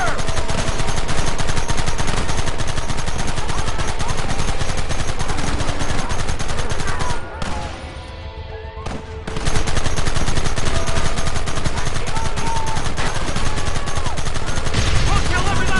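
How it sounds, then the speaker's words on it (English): Dense, continuous gunfire in the Red Dead video game, loud rapid shots and machine-gun rattle throughout, with a brief lull in the middle before the barrage resumes, with voices shouting underneath. "There they are! Open fire!"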